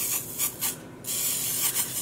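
A Misto pressurized spray bottle misting acid dye onto yarn gives repeated short hissing bursts, about six in quick succession with a brief pause in the middle, close and moderately loud.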